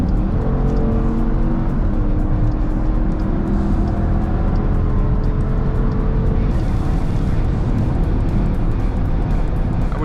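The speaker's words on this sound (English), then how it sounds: "This thing sounds pretty healthy when you just give it a little gas." Steady loud engine roar from inside a Dodge Durango R/T in sport mode, a broad rumbling drone that builds slightly as it pulls, with road noise underneath throughout.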